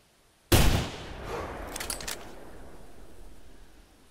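A single rifle shot at a whitetail deer in the video game theHunter Classic cracks loudly and suddenly, then rings into a long fading echo across open terrain, with faint crackling reverberation trailing off afterward.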